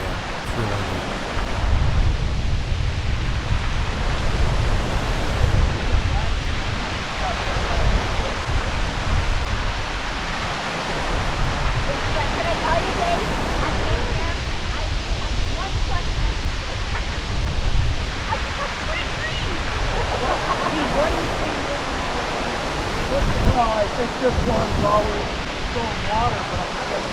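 Water pours steadily over a dam weir at Lyman Run Lake, a broad continuous rushing roar that fills the whole scene, with no voices breaking through.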